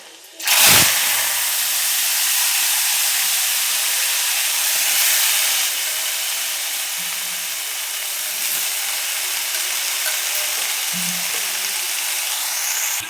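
Cowpea bean pods hit hot oil with a sudden loud sizzle that settles into a steady, close hissing fry, lasting throughout with only faint clinks underneath.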